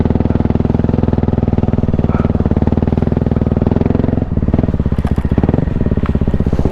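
A 2024 Kawasaki KLX300R dirt bike idles along in first gear at almost no throttle, its single-cylinder engine thumping in a steady, close, loud rhythm with faint clatter as it tractors slowly over cross-country terrain.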